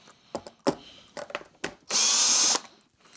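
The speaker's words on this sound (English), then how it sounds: "So it looks like there's just 6 screws to take this apart." Short clicks and knocks, then a power screwdriver whirs in one brief, close burst removing screws from a Vacmaster VZA306P canister vacuum, before a few more small handling taps.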